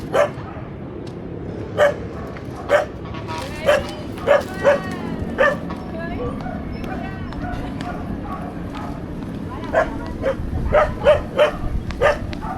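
An angry dog barks in short, sharp bursts, repeatedly and close by, in clusters separated by brief pauses, with people talking in the background.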